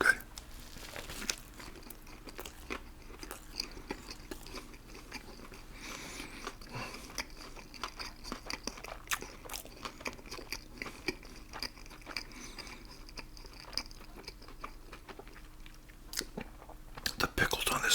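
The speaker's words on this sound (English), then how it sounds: "I gotta take another bite" Close, crisp biting and wet chewing of a Popeyes chicken burger with pickles, repeated crunchy bites and mouth sounds with crinkling wrapper, softly spoken whispered talk at times.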